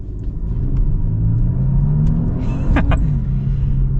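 A 2023 Genesis G80 Sport Prestige 3.5T sits stopped in Sport Plus mode, giving a loud, steady low engine rumble that swells slightly, with a couple of faint clicks near the end.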